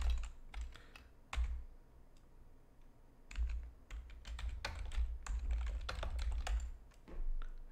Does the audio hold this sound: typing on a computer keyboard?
yes